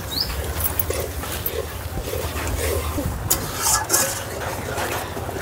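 Semolina cooking with liquid milk in ghee is stirred in a pan, making soft, irregular scraping and bubbling close by, with scattered clinks and some background noise.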